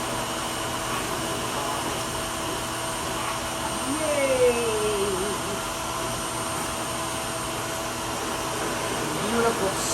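A Prima dog grooming dryer blasts air through the fur of a freshly bathed Pomeranian-corgi mix. The steady, loud blowing roar runs throughout with slight surges.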